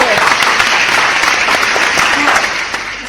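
A crowd applauds loudly and steadily, with dense clapping that fades slightly toward the end, while a voice is faintly heard beneath it.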